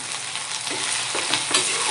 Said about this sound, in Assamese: পিয়াজ আৰু আদা নহৰুখিনি অলপ ভাজি লম